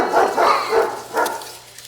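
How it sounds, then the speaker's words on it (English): A pet dog whimpers and yips in a few short, close, high-pitched whines spaced through a brief moment, loud and alone with no talk. "The dog whimpers."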